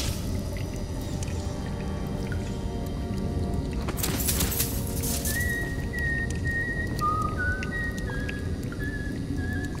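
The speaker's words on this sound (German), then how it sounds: "Das pfeift hier." In the video game Dishonored, a thin, steady whistling tone starts partway through and holds with slight pitch shifts over a low ambient game rumble, without speech.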